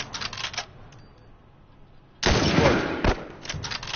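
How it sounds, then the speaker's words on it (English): Gunfire cracks in The Last of Us, with clusters of sharp shots, a quieter gap, then a loud, heavy blast followed by more rapid reports. "Oh my god, this sniper is powerful."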